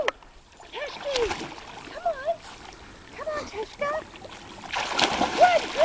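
A dog jumps into cold water during a swim and splashes, with scattered water sounds under people talking and calling to it throughout.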